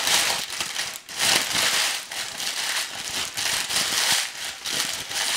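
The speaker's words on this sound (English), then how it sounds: "I don't know how much of that parchment paper you can hear crinkling" Parchment paper being crumpled and crinkled up close, a continuous crackly rustle with rises and dips in loudness and no voices.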